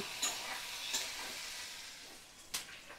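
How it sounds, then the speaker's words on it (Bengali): Spices sizzle softly in a pan over a low gas flame with chili powder added, a few sharp scrapes of a spoon stirring them at intervals, quiet and close with no voices. "তো মশলাটা 2 থেকে 3 মিনিট ভালো করে কষিয়ে নিচ্ছি।"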